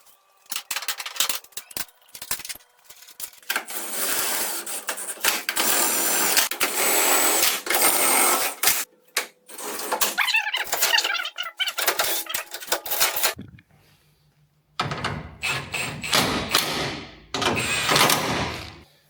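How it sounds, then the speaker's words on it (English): Power tool driving bolts during the restoration of a fire-damaged BMW M4 Competition, loud whirring and rattling bursts of several seconds each, broken by brief pauses and clicks, with no speech. "This is the last bolt that I'm putting in."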